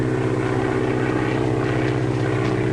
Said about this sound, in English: Spotted plane with smoke attachment.